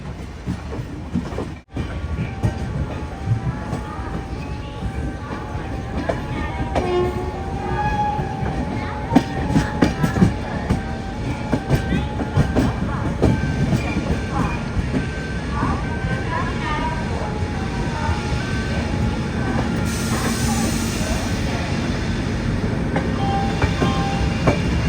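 A Millennium Express sleeper-class train runs on rails from Ernakulam to Hazrat Nizamuddin, giving a steady loud rumble of wheels and carriage noise throughout, with a brief jolt early on and people talking faintly underneath.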